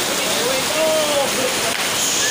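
Heavy rain pours down in a storm, a dense, steady hiss filling the whole stretch, loud and close, with a faint high tone drifting through it.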